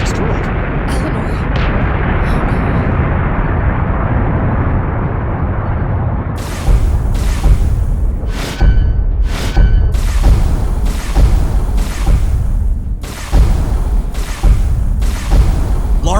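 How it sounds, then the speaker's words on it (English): Explosions tear through a space station in the video game Battlestar Galactica Deadlock: a sustained, heavy low rumble, then a run of sharp bursts and booming blasts from about six seconds on, with a voice speaking over parts of it. "There's explosions coming from inside the station."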